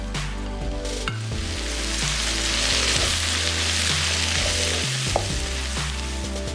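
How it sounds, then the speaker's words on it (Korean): Loud, continuous sizzling fills the pan as fish cake is stir-fried with onion and carrot, a utensil stirring and scraping through the food, with occasional sharper clanks against the metal. "오뎅을 넣고 볶는다."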